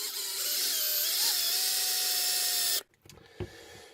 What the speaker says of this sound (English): 5mm drill bit, not for metal, so hopefully we don't break it because I've only got one 5mm.